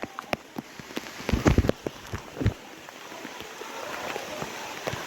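Rain falls steadily at the Patanvav waterfall on Osam hill, a soft continuous patter with scattered sharper drops and a few louder splashes near the middle, fairly faint and heard alone.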